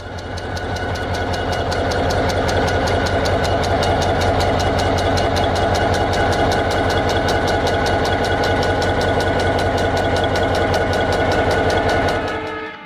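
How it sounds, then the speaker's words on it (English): A V16 diesel locomotive engine runs loud and close, a steady heavy throbbing rumble with rapid rhythmic knocking pulses that holds constant throughout before dropping off at the very end. "a diesel locomotive engine has 16 cylinders V16"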